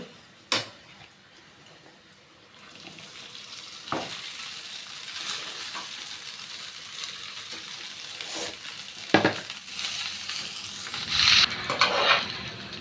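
Cooked rice being stirred with fried ajwain in a pan, soft scraping and shuffling over a low sizzle, with scattered sharp knocks of the utensil against the pan and no talking.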